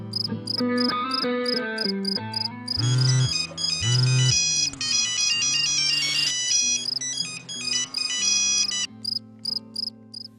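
A mobile phone rings for an incoming call, a loud, bright electronic melody of repeating tones with short pulsing beeps, playing alone and close by.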